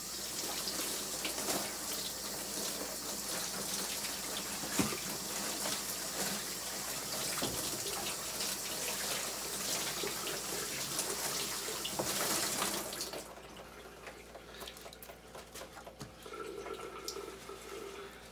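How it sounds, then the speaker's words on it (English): Tap water runs into a sink as hands are rinsed clean of bleach water, a steady close splashing hiss that stops abruptly after about thirteen seconds, leaving quieter drips and faint trickling. "Give me a sec, I got to rinse my hands off."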